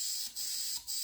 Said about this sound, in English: I spray into all three.